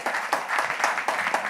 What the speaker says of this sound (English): Give God a hand clap, why don't you, please?